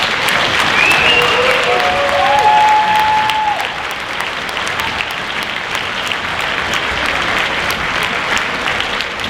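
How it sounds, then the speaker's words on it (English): Loud, steady applause from a stadium audience for second-year members, sustained and dense throughout with a few faint whistles early on. "give them another round of applause"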